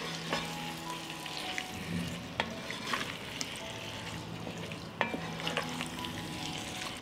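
Chopped sausage and frankfurters frying with vegetables and ground red Hungarian paprika, a low steady sizzle with repeated spoon scrapes and clinks as the pan is stirred, fairly quiet and close.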